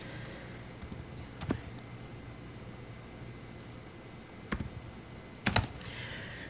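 Code typed on a computer keyboard, a few short clusters of key clicks separated by quiet gaps, close and soft over faint room hiss.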